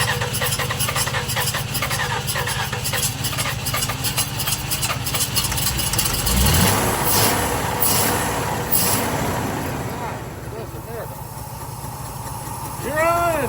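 A Ford 300 inline-six in an old OBS Ford truck idles roughly and steadily at close range, then surges and lopes unevenly after a revving burst, with someone talking and exclaiming over it.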